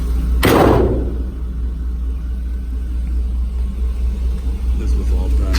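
A 1963 Ford F100 unibody truck's door slams shut once with a loud, close thud, which fades into a low steady rumble that continues to the end.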